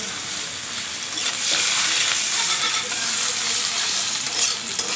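Onions fry in hot oil with whole garam masala and a dried chilli in a pan, giving a loud, continuous sizzle with steady stirring scrapes throughout.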